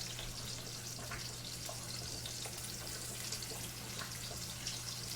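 Quiet, steady sizzling and crackling of zucchini frying in oil, with a low constant hum underneath and no voices.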